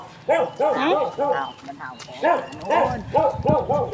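A dog barks in a string of sharp, repeated barks close by outdoors, with people chatting over and between them.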